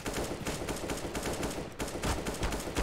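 AK rifle fire in Counter-Strike: Global Offensive: a rapid, steady burst of loud repeated shots for nearly three seconds, with a brief break partway through, close and dominant with no talking.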